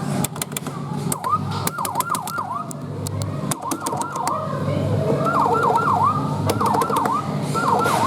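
Electronic wailing siren from a Falgas 4S fire truck kiddie ride, close and steady, cycling through repeated rising-and-falling sweeps with short gaps, over indoor background bustle and occasional clicks.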